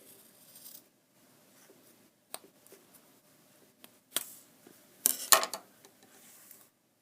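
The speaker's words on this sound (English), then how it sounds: "So just make sure that you're using an old pair of scissors. And I want to cut where I made my second blue line." An old pair of scissors snips through a zipper with metal teeth, giving sparse, quiet crunching cuts that build to a few louder sharp snaps near the end, with no talking.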